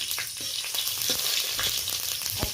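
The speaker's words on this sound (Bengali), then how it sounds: "আর শুকনো লঙ্কা ভাজার সময়" Dry red chillies fry in a small amount of mustard oil in a pan. A close, continuous crackling sizzle with scattered sharp pops and no talking.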